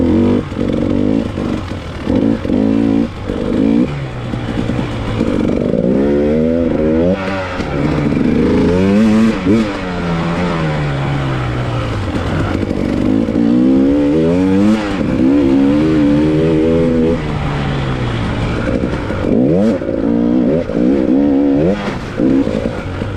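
An off-road dirt bike racing a muddy hare scramble track into the woods, its engine loud and close, revving up and down in rising and falling surges with some clatter from the bike, no voices.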